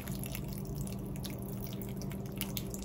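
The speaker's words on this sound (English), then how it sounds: "how much water is draining from there." Water drips and trickles as salted shredded Brussels sprouts for coleslaw are squeezed by hand, a faint, continuous patter of drops close by with no talking.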